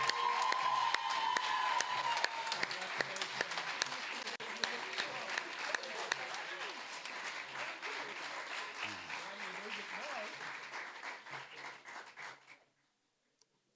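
A crowd claps at an award presentation during a debating competition, loud sustained applause with scattered cheers and whoops that gradually thins and stops abruptly near the end.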